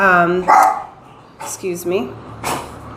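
A dog barks and yips a few times close by, short bright bursts mixed in with a person talking.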